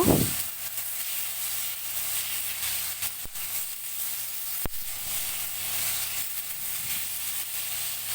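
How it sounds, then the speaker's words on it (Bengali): Boiled sola kochu being fried with spices in a pan: a steady, loud sizzle and hiss throughout, with a couple of sharp clicks of a utensil against the pan partway through. "সেদ্ধ করে রাখা শলা কচু দিয়ে দেব ভালো করে নেড়ে চেড়ে মশলার সাথে কষিয়ে নেব"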